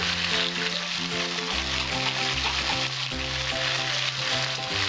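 Cumin paste and green chili paste frying in oil for a light Bengali magur catfish curry, a steady close sizzle with spatter running throughout, no talking.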